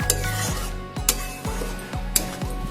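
Rhythmic scraping of a spoon stirring borir jhal, lentil dumplings in mustard oil, in a metal pan, repeated strokes with sharp clinks against the pan and a faint sizzle underneath.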